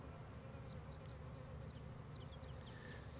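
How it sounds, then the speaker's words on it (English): A bee buzzes around bee balm flowers in a garden, a faint continuous drone with brief closer passes over quiet outdoor background. "Look at that bee there."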